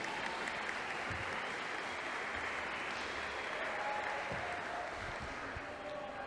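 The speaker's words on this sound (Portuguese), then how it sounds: "Eu queria dar uma salva de palmas para os nossos irmãos que estão servindo água." A church congregation claps for the brothers serving water, a continuous, fairly distant wash of applause filling the hall without pause.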